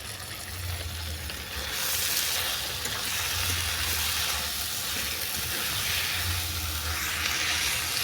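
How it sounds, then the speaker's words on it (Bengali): Gab leaves being sautéed with fried potato and eggplant in a pan, a steady close sizzle and hiss of frying that runs through the whole stretch, with occasional stirring underneath. "এটাকে ভালো করে কষিয়ে নেব"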